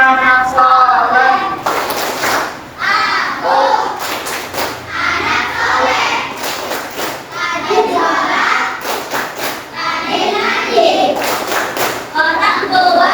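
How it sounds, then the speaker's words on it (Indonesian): Schoolchildren in a classroom perform the 'tepuk anak soleh' clapping chant, chanting together in rhythm and punctuating the lines with sharp bursts of group clapping at regular intervals. "Kita tepuk anak soleh."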